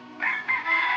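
A chicken calls out in a few short, bright bursts, close and clear with no talking.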